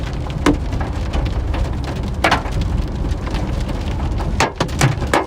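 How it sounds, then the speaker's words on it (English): Hail and rain pound a road during a storm in Arkansas, a loud continuous hiss of rain with sharp, irregular cracks and clatters of hailstones striking close by. "I don't even see that big a hail falling in the road. No. But it sounds way bigger."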